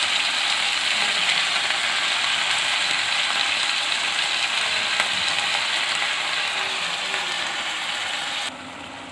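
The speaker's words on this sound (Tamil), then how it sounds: "புதினா வாசம் போகிற மாதிரி நம்ம நல்லா வதக்கி எடுத்துடலாம்." Mint leaves sautéing in a pan for mint chutney, a steady, dense sizzle that stays loud and even throughout, then drops abruptly near the end as the heat is cut.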